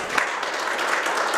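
Applause from the audience at a junior division fashion show, a steady dense wash of clapping that holds for the whole short stretch at moderate loudness.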